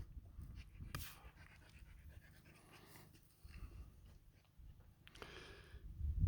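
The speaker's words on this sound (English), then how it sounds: "What you hear is me and the dog." A dog named Hecate pants steadily on a large rural off-grid property, the rapid breaths loud and close with brief rustling and shuffling movement around them.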